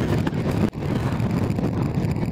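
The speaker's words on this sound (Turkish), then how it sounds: "Şu an inanılmaz rüzgar var." Strong wind at a campsite roaring and buffeting the microphone, a continuous loud rumble with a brief dip partway through.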